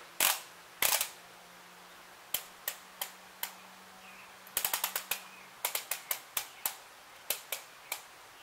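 A torque wrench being run back down after tightening bolts on a Ford Ranger: sharp, close ratchet clicks in short bursts and quick runs, with brief gaps, alone in a quiet space.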